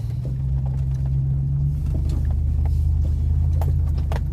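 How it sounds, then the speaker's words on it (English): An old truck's engine rumbles low and steady inside the cab while driving, with small rattles and clicks over the constant drone. "driving in the old truck."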